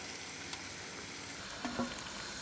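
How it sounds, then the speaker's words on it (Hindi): Dill (soya saag) and spinach sizzle as they go into a hot pan after sesame seeds, a steady soft frying hiss with a few brief clatters of stirring near the end. "तिल ऐड करने के बाद अब हम ऐड कर लेंगे सोया साग और स्पिनच जो हमने रेडी करके रखी हुई है।"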